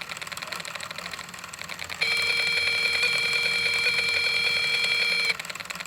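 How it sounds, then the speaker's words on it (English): A Snap Circuits Deluxe Light & Sound kit speaker switched on under a photo transistor gives a steady, fast electronic ticking buzz, louder and denser for about three seconds in the middle, with no talking. "when I turn on the slight switch that's under the photo transistor, the speaker now starts making a ticking sound"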